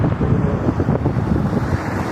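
Steady autumn wind buffeting the microphone at a bus stop, a constant low rumbling roar with no voices, loud and close throughout.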